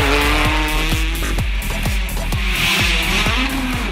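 A Peugeot 208 T16 rally car powerslides through a handbrake turn, its engine revving up and down in rapid bursts with gear-change dips while tyres squeal and skid, loud and close throughout.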